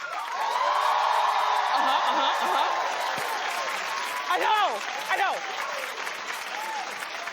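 Studio audience clapping and whooping for a guest on a talk show, a loud continuous roar of applause with a few cheers, while a voice speaks briefly over it near the end.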